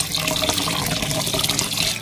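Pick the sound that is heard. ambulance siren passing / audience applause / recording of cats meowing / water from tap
water from tap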